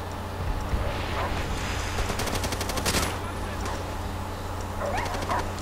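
Rapid gunfire bursts from Call of Duty: World at War multiplayer on the Courtyard map, with a Thompson submachine gun, cracking in quick repeated volleys over a steady game background hum, with other battle noises scattered through the match.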